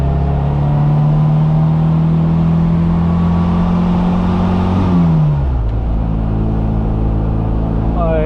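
A retro Mini Cooper engine pulling hard uphill, a loud close droning whine that holds steady, then drops sharply around a gear change and keeps running.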